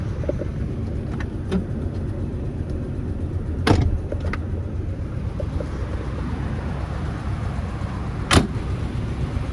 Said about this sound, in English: Doors close nice.